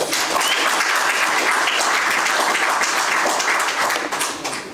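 An audience at a veteran-owned small business accelerator demo day in Little Rock claps steadily, dense applause filling the room before tapering slightly at the end.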